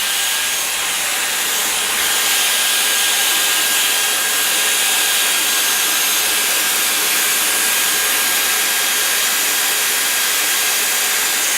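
A Dyson Airwrap hair styler blows air in a steady, loud, even whoosh, held continuously for several seconds with no voices.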